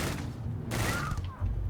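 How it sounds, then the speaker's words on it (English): A rapid-fire rifle in the Starfield video game, firing a short burst of quick shots that runs over a dense rumbling background, with a louder thump near the end. "The fire rate is exceptionally quick on here."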